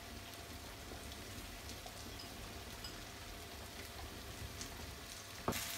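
Chicken fry sizzling steadily in a pan after curry leaves and coriander go in, a continuous close hiss and crackle throughout, with one brief louder clink near the end.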